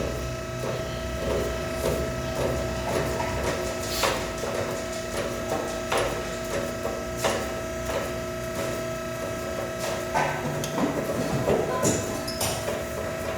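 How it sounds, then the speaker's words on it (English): A wall-mounted spring compressor slowly releases spring tension on a 2013 Hyundai Sonata front strut. Its close mechanical whir is broken by repeated clicks and clanks. "Now that that's apart, we need to undo the spring tension."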